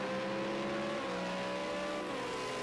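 Super2 race cars at Ruapuna Park hold a sustained engine drone, a steady high whine that shifts pitch slightly as they power around the circuit, continuous and somewhat distant.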